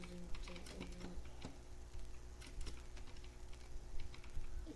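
Rapid, irregular clicking of keys being typed on a keyboard, quiet and continuous, with bursts of faster keystrokes.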